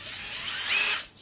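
A Makita XWT14 1/2-inch cordless impact wrench runs alone and close as its trigger is throttled like a drill. The whine climbs steadily, peaks, then drops briefly and picks back up.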